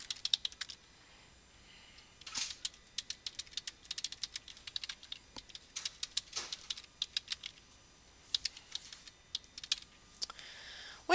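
Computer keyboard typing while adding text to a story page in vector mode, with irregular bursts of quick, light key clicks separated by short pauses, close and fairly quiet with no speech.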